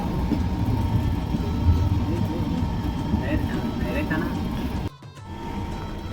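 Steady heavy rumble and rattling clatter of a moving train traveling from Maharashtra toward Hyderabad, Telangana, loud and continuous, with a brief drop partway through.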